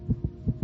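Racing heartbeat of a young child: fast paired lub-dub thumps, two beats in quick succession, close and muffled, with a low hum underneath and no talking.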